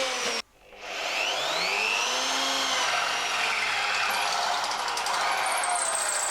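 A power drill bores out spot welds on a camper van panel, starting after a brief pause and then whining loudly and steadily with shifting pitch as the bit cuts through the metal.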